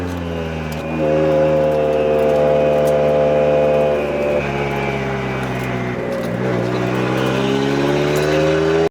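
A drift car on a D1 Divisional West run at Yz Circuit holds a loud, steady engine drone that rises in pitch and then shifts as it revs through the run, close and without speech.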